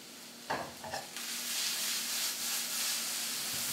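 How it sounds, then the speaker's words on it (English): Two eggs are beaten in a bowl for Greek spinach triangles, a couple of sharp taps giving way to a steady, soft whisking swish, close and fairly quiet. "So I just want to beat these two eggs."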